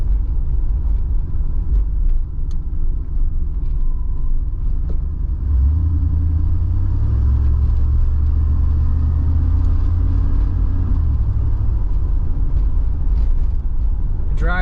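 A 1983 Pontiac Trans Am, its throttle body just adjusted, drives along with a steady low engine rumble and road drone from inside the cabin, smooth and continuous, with faint background sound.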